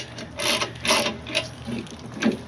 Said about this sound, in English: I got the 15mm socket. You want to tighten this up.